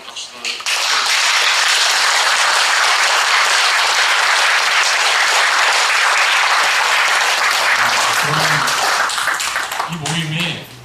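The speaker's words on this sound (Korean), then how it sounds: "여러분 다시 한번 박수를 쳐주십시오." Loud, dense applause from an audience at a Suncheon mayoral candidates' debate hosted by a civic group, sustained for about ten seconds before tapering off as voices emerge at the end.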